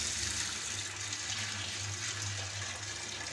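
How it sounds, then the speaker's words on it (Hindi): Water pouring and splashing steadily over chickpeas being rinsed in a home kitchen, a continuous close gush with no talking. "तो हम छोलों को धो लेते हैं।"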